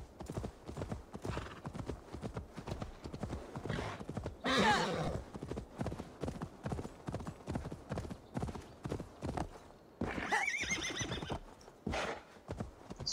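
Horse hooves clip-clop steadily in Assassin's Creed Valhalla, a near, continuous trotting rhythm broken by two loud neighs, one around the fifth second and another near the tenth.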